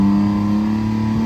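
BMW G82 M4 exhaust revving with the valves closed, a loud, close, steady droning rev held for just over a second with no talk over it.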